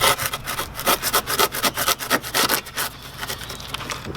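Trimming material from the front grille of an Audi TT mk2: rapid, rhythmic rasping strokes, like a saw or file working plastic, close up and fairly loud for about four seconds with no talking.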